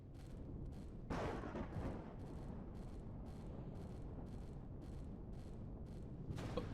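A dual minigun fires steadily in the space game Empyrion Galactic Survival, giving a continuous, dense rumble of rapid shots with a louder burst partway through.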